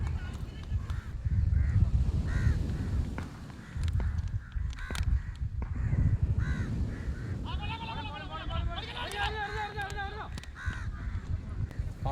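A crow caws in a short series of harsh calls midway through, at a cricket match, heard over nearby talking and low background noise.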